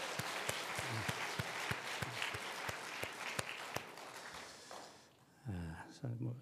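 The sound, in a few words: church congregation applause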